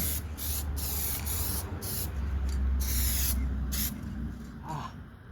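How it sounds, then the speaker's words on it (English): Spray can applying Piano Black HyperDip to plastic body cladding on a 2004 Saturn VUE, in a series of close, loud hissing bursts separated by short pauses. "I don't know if I can spray very well with my left."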